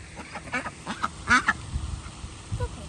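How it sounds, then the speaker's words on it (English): Ducks being fed bread at Lake Carola in Sanford, Florida, give a run of close, raspy quacks in uneven bursts, one louder call near the middle standing out over quieter outdoor background. "I think there's a lot coming now. More ducks."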